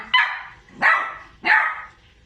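A beagle barks three times, close and loud, with evenly spaced sharp barks.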